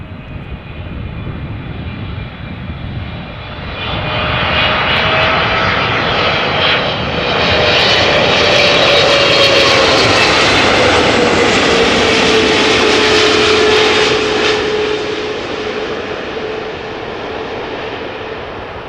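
Air Canada Boeing 777-300ER, fourteen years old, arriving at Amsterdam Schiphol from Toronto: a jet roar swells to a loud peak with a gliding engine whine, then slowly recedes.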